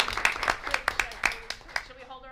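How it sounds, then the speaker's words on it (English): Scattered applause at a school board public meeting, a handful of distinct claps spaced irregularly over a couple of seconds, moderately near, with a voice speaking as it fades. "everyone deserves applause"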